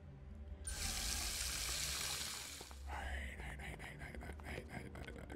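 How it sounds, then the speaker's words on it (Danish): A water tap turned on in the video game Lucius 2, a steady hissing rush of running water that starts abruptly and continues for about two seconds before tapering, followed by softer game sounds. "Vi tænder lige for vandet igen her."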